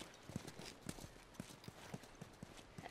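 Horse hooves clip-clop at a walking pace in the video game The Last of Us, a steady run of soft, evenly spaced thuds heard close and fairly quiet against a light ambient bed.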